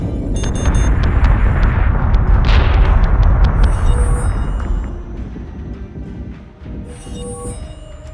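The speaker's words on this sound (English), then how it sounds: "Missiles incoming!" Missile impacts and explosions in the space combat video game Battlestar Galactica Deadlock: a loud, continuous barrage of booming blasts and crackling hits that swells mid-clip, then thins to a lower rumble with scattered electronic effects.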